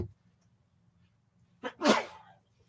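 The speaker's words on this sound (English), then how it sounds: "Sorry, I had to sneeze." A single loud sneeze from a man, preceded by a short sharp intake of breath, after near silence.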